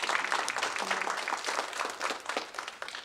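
Audience applause at a public safety town hall, a steady dense patter of many hands clapping at moderate volume for about three seconds with no talking over it.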